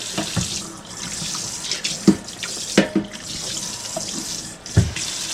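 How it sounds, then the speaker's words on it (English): Tap water runs into a kitchen sink as it is rinsed out, a steady close splashing rush broken by a few sharper splashes and knocks, with no voices. "Rinse my sink back out a little."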